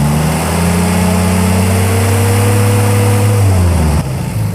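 A Willys engine held at raised RPM produces a loud, steady mechanical drone with strong low harmonics, heard close up, before the revs drop and shift near the end.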